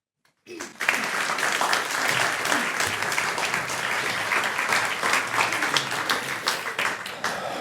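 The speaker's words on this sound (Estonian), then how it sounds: "Ma tänan sellise lahja plaksutuse eest" Thin, sparse applause from an audience at an Estonian speech, starting suddenly after a brief silence and continuing at a steady, modest level with no cheering.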